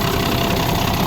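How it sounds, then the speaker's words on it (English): An International DT466 diesel engine in an auction truck runs at idle after cranking, a loud, steady, rough rumble with a fast knocking pulse heard up close and no speech. "That's what a DT466 ought to sound like."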